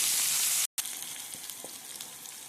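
Chili crackles and sizzles in hot oil in a pan while an okra dish is being cooked, a steady frying hiss with a brief cut partway through, no talk.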